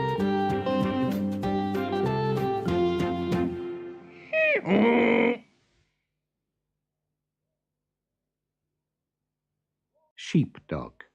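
Sheep bleat twice out in a field, a near wavering cry after a stretch of music and a second short bleat following a long silence.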